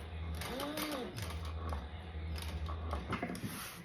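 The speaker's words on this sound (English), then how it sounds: "And then we're going to catch that tab and sew that in." Sewing machine stitching a fabric pouch and catching in a tab, a quiet mechanical whir running in short bursts with pauses and pivots at a corner, under a steady low hum with a voice speaking nearby.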